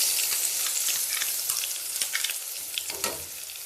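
Mango pieces fry in ghee in a pan for a Kerala-style mango halwa, giving a loud, bright, continuous sizzle close by with a few stirring scrapes.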